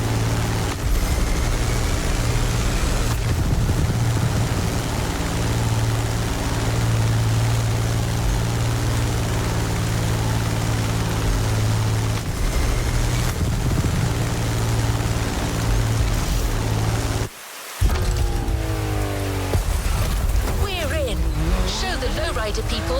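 A 1971 Chevrolet Caprice donk with a big-block engine of about 880 horsepower in The Crew Motorfest gives off a steady, low engine drone beneath continuous narration, with a brief dropout near the end.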